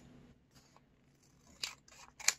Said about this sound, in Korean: 위쪽은 조금만 잘라주세요.